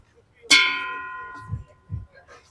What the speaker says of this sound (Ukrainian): Оцей так гарно дзвонить.